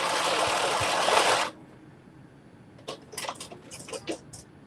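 A sewing machine runs in one steady, fairly loud burst for about a second and a half while stitching a waistband piece, then stops, followed by quiet intermittent clicks and rustles of fabric handling.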